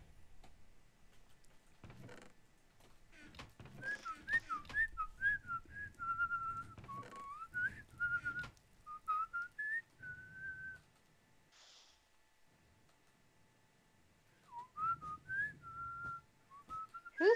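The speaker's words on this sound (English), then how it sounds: "Who's whistling?" A person whistles a wandering, melodic tune in short phrases with pauses between, fairly close but soft, over faint background noise during Minecraft play.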